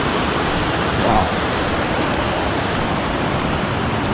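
A small waterfall on a river on Vancouver Island, heard as a steady, close rush of broadband splashing water that holds constant throughout with no break.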